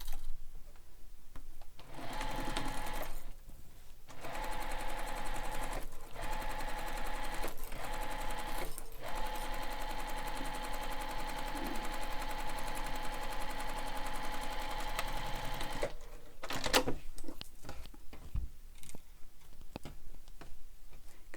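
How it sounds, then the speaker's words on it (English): Close and loud, a sewing machine stitches along a backpack seam from the reverse side, running almost continuously with a few brief pauses and ending in clicks and thread handling. "I'm actually going to stitch from the other side"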